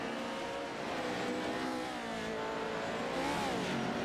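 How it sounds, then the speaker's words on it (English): A PRO-2 off-road race truck in the iRacing sim at Crandon drives past with a loud engine roar that shifts in pitch as it goes by, among other race vehicle noise. "You can just hear it when that truck goes by. It's just way down on power."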